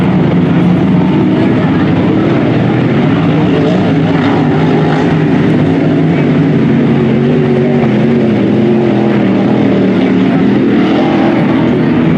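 Hydroplane racing boats roar past at the Seafair races in Seattle, a loud, sustained engine drone that fills the whole stretch without pause, with faint crowd or commentary beneath.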